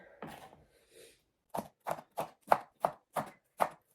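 Knife chopping red onion lengthwise on a board at home for chicken burritos, a steady run of eight crisp close chops following softer handling sounds.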